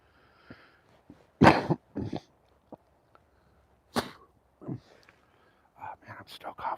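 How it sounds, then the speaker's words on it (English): Dry coughs and throat clearing from a person outdoors in deer woods, a few sharp separate bursts close to the mic with quiet gaps between them. "I'm still coughing all of that green stuff up."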